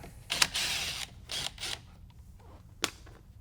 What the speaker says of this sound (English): We're going to remove this nut with a 10mm